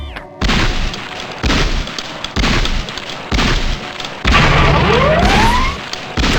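Shotgun blasts fired at a training-range target in the Gunman Chronicles game, arriving as five loud, evenly spaced booming shots, each with a short decaying tail, plus a rising electronic tone near the end.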